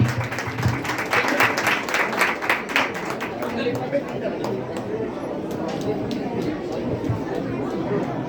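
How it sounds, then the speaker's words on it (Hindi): A crowd applauds to welcome guests to the stage at a Kshamavani Jai Jinendra gathering of a housing society in Wakad, Pune. Brisk clapping fills the first few seconds, then it thins out under steady crowd chatter and talking. "सब लोग ताली बजाकर उनका स्वागत कीजिए।"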